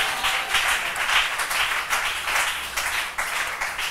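A church congregation applauds to acclaim the Lord, with dense, steady clapping from many hands that carries on for several seconds at full strength.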